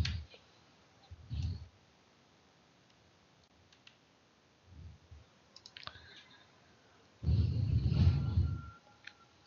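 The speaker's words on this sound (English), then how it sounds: "So I'm clicking on that for step 0" A computer mouse gives a few faint, sparse clicks close by, set among soft rumbling handling noise and a louder low rustle near the end.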